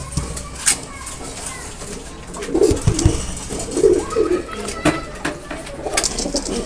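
Teddy pigeons coo softly in low, throaty bursts a few times, with faint background chatter and rustling around them.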